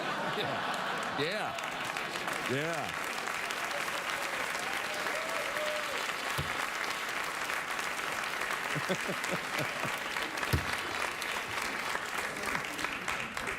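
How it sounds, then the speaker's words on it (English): A television studio audience on a late-night talk show applauds steadily, a dense sustained wash of clapping lasting over a dozen seconds with a few brief louder bursts. "Hey, save your clapping until I say it to you."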